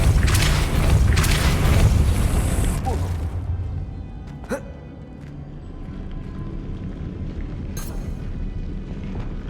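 A Depulso spell cast in Hogwarts Legacy: a loud rushing magical burst fades after a few seconds, followed by a sharp single impact, then a quieter resonant hum and a faint later flicker.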